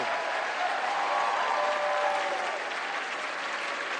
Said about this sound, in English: I appreciate all that applause